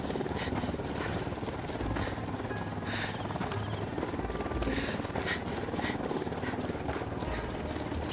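A helicopter in the video game Ghost Recon Wildlands makes a steady, loud, continuous rotor roar with dense whooshing noise and no pauses throughout.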